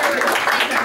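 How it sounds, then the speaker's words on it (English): Audience applause after a cybersecurity prevention talk, a dense and steady wash of many hands clapping that fills the whole short moment at full loudness. "Let's just give him another round of applause."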